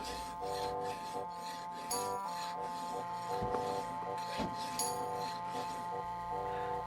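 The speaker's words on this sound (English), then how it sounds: "Filing to final shape." A hand file rasps a small metal part to its final shape, repeated close scraping strokes with faint clinks, steady and quiet, with no speech.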